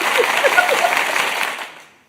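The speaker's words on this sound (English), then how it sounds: "Let me give a round of applause to the process" A short burst of applause, steady clapping from a crowd that quickly fades away to silence.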